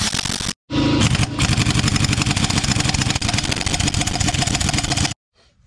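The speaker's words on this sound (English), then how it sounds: "impact wrench, or impact gun rather, is the method I'm going to go with" A loud, continuous rattling buzz from an impact wrench loosening a VW Beetle crank pulley bolt, starting after a short burst and a brief pause, then hammering steadily for several seconds before stopping.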